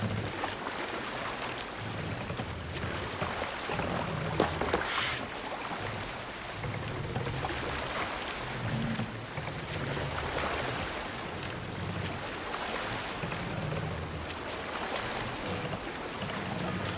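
Viking longboat rowing in Assassin's Creed Valhalla: a steady wash of water and wind with soft, rhythmic oar strokes pulsing low underneath, continuous and even throughout.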